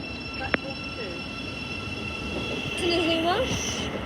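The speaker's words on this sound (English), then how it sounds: "Train now approaching platform 2." A train runs through Stevenage station on the East Coast Main Line, a steady roar with a sharp click, whistling tones and rising squeal-like sweeps near the end, and a platform announcement plays over it.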